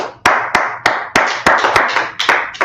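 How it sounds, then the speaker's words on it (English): Slow, sharp claps ring out about ten times in a steady rhythm, loud and close, each one followed by a short echoing decay in a gathering. "Let's clap it up for that"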